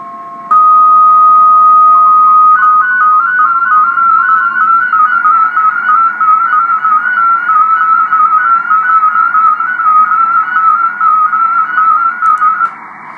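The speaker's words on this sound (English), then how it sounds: "my program called Hamscope, which can transmit that mode, MFSK, and that was a CQDX that it generated by me" An MFSK digital radio mode CQ DX call generated by the Hamscope program sounds as a steady stream of shifting pure tones, hopping between pitches in a continuous warbling sequence, loud and alone for about twelve seconds.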